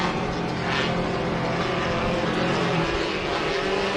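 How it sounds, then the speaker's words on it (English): Small camera drone flying over a short course off-road race track, a steady buzzing drone hum blended with continuous broadband race-track ambience, no clear speech. "that is a little drone out there"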